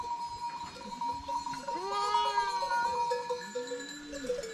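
A flock of sheep with goats mixed in at a village shearing day, with a near bleat rising over a steady background of bells and other animal calls across the yard.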